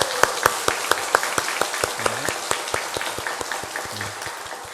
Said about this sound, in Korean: 성가대 다 찬양대 다 앉았으니까 함께 또 크게 박수하겠습니다.